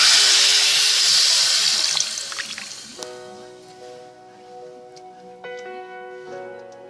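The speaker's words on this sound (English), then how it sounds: "Then I will add water," Water pours from a cup into a pot of 1 kg of pork being cooked for a wet fry, a loud, full splashing gush that thins into a ringing trickle and drips as the pot fills.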